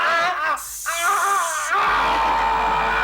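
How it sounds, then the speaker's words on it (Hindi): A man screams and wails in pain from a toothache, loud, wavering cries rising and falling over about two seconds before trailing into a steady background hum. "ये तो और जोर से चिल्लाने लगा।"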